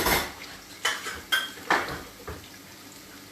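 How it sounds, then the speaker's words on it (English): Dishes, pots and pans being washed in a home kitchen while a chicken korma with pakoras is cooked, giving a few separate soft clinks and clatters against a quiet background, with no talking. "So, while we're doing that, I'll wash some of these dishes."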